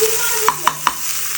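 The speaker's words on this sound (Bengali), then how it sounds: "আমি ভেজে নিব সসেসগুলো।" Sausages fry in a pan for a baked pasta dish, a loud, close frying hiss punctuated by three evenly spaced metallic clinks of a utensil against the pan.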